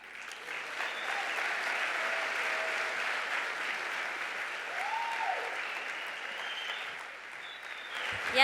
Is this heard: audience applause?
yes